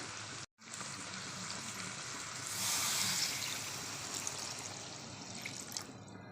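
Water pours into a pot of chicken kosha cooking in its own released oil, a soft continuous splashing and sizzling that swells in the middle and then settles.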